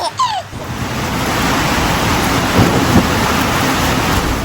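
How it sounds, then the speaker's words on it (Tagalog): Heavy, steady rain pours down at night on a mountain road in Benguet, in a continuous loud wash, with a brief burst of other sound at the very start. "At nagtuloy-tuloy na nga yung ulan hanggang ating gabi."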